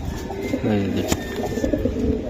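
A Giribaz racing pigeon gives a single deep, rolling coo up close, with faint background noise around it.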